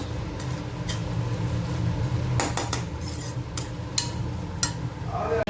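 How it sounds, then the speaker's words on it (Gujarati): Grated lily turmeric frying in ghee in a pan while a utensil scrapes and clinks against the metal in irregular taps over a low steady hiss, close and moderately loud. "હવે અહીંયા જોઈ શકો છો કે આપણે ઘીમાં સાતળવાનું ચાલુ કરી દીધું છે."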